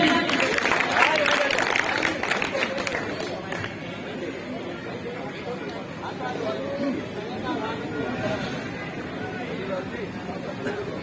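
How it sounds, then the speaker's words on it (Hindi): Applause mixed with crowd chatter at an outdoor Banjara community gathering at a temple courtyard in Uttar Pradesh; a burst of clapping at the start fades into a murmuring hubbub of voices. "इनके लिए जोरदार ताली।"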